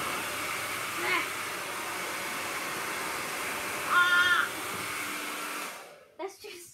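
A hair dryer held pointing straight up to float ping pong balls gives a loud, steady blowing roar with a few brief squeaky accents. It runs for about six seconds, then cuts off into near silence with a couple of soft bumps.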